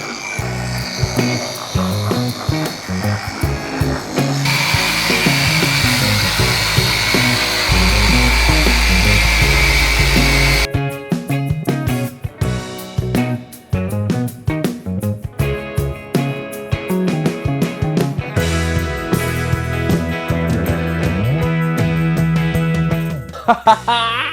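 A machine polisher cuts into the paint of a Nissan Patrol with a steady high whirring grind, loud and close, shifting pitch as pressure changes, with brief pauses and no talk.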